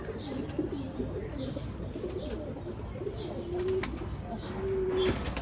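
Firozpuri pigeons, a top-quality medium-sized breed kept in Bangladesh, give low repeated coos with a few soft wing flutters, fairly close against a busy background.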